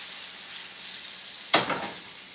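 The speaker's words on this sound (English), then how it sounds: "I just added a little bit more butter to the pan just to saute up that garlic." Garlic sautéing in melted butter in a pan: steady soft sizzle, then a sharp louder crackling burst as it hits the hot fat, fading back to a gentle fry.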